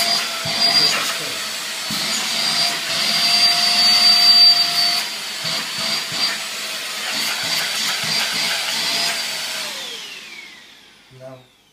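A Euroclean Litevac vacuum cleaner runs on suction with a steady motor whine and airflow hiss, close and loud, then winds down near the end.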